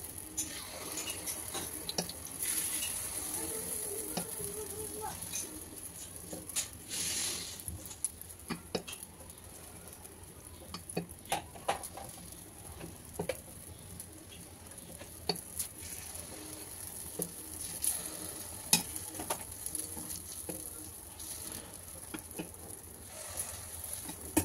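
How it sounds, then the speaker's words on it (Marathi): Rice appe batter hits a hot appe pan with a soft, continuous sizzle, accompanied by scattered clicks and light clatter, fairly quiet and without speech. "आपण याच्यामध्ये मिश्रण घालायचं आहे।"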